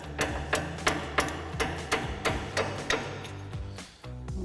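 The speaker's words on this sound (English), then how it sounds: "We're just gonna lightly tap on this just to kind of persuade it out a little bit." A ball peen hammer lightly taps a punch against a brake caliper slider pin on a 2019-2023 Chevrolet Silverado 1500, about a dozen sharp metallic strikes in an uneven rhythm over a low background hum.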